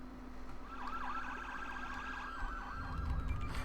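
Police car sirens wail continuously in a SimCity city-building game, a steady rising-and-falling tone over a low traffic rumble, moderately faint and with no talking.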